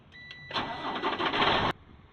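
A truck engine cranks and catches during a pre-trip service brake test, a loud burst of starter and engine noise lasting just over a second before cutting off abruptly, preceded by faint ticking.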